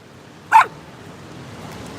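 A small dog of about 13 pounds gives a single sharp, close bark on a beach, with faint surf murmuring in the background before and after.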